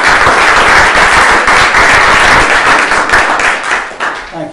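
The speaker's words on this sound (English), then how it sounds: "Please give him a round of applause." An audience at a symposium panel applauds a professor's introduction, dense sustained clapping from many hands, loud and close, tapering slightly near the end.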